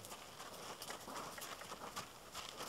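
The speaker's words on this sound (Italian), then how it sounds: "invito il cavallo ad andare un po' nel trotto" A young horse trots on a lunge line during groundwork training, faint rhythmic hoofbeats pattering at a distance under steady background noise.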